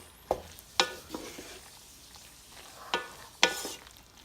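Pasta with vegan cheese sauce and spinach being stirred in a pot, a few sharp scrapes and wet squelches in a quiet space, spaced irregularly over a few seconds.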